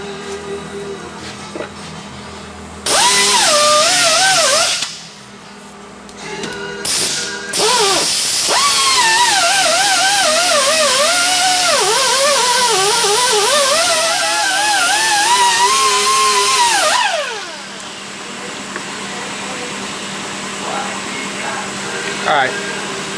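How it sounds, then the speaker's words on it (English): A grinder working over a rough surface area to smooth it, a loud steady whine with shifting pitch running most of the way through, with brief pauses near the start and a speaking voice before and after. "We're going to grind it, and that'll get it smoothed in."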